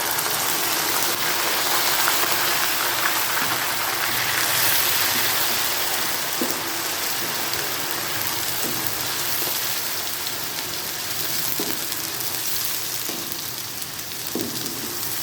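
Browned onions frying in a pan over a medium-high flame as ginger-garlic paste is added for smoked chicken, giving a steady, dense, rain-like sizzle with a few faint clicks.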